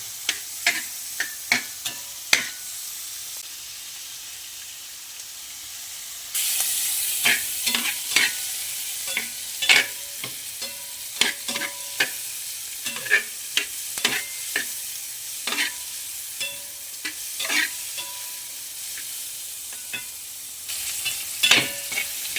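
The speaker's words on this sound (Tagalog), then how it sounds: "Lulutuin natin yung sibuyas at kamatis bago natin ilunod yung itlog, binating itlog." Onions and tomatoes sautéing in a rice cooker: a steady sizzle runs throughout while a utensil scrapes and taps repeatedly in quick, uneven strokes, close and fairly loud, with no talking.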